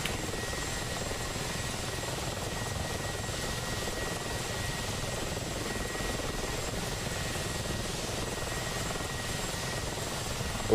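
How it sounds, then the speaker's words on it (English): Steady, continuous rotor and turbine drone of an Mi-24 helicopter in a video game, flying at an even level with no talk over it. "BSD Mike taken to the skies now in the MI-24"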